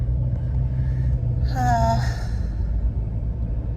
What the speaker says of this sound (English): Listen to these brakes squeaking